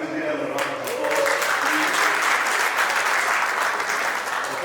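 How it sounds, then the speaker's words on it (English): An audience at a graduation ceremony gives the choir a round of applause: after a brief lead-in, thick, steady clapping swells and holds at full strength. "our beautiful choir, and we will give them a round of applause"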